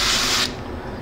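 A short burst of spray from an aerosol can applying matte varnish to model Mk-82 bombs, a loud hiss that cuts off after about half a second, leaving quiet room noise.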